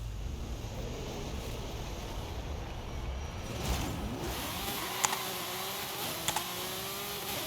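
A car engine in Forza Horizon 5 revving during a clutch-slip drag launch: a tone climbing in pitch under steady background noise, with a few faint clicks near the end.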